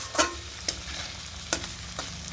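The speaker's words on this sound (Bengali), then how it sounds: "মশলাটা ভালোভাবে ভাজা হোক" Spice paste sizzles with fish in a pan, a low, steady crackle punctuated by four short, sharp pops and spatters spread across the moment.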